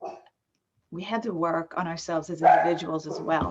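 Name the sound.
dog barking in the background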